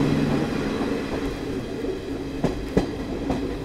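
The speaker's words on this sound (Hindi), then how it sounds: "घाट सेक्शन स्टार्ट होने से पहले किसी एमएमयू ट्रेन को हम लोग यहाँ पर ओवरटेक मार रहे हैं।" A Garib Rath express train runs past a local MEMU train before a ghat section, with a steady rolling rumble and a few sharp clacks of the wheels over rail joints near the end.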